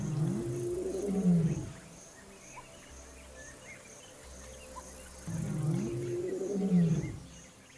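A lion on the grasslands gives two deep, rumbling roars several seconds apart, heard at moderate distance over a constant background of crickets and insects.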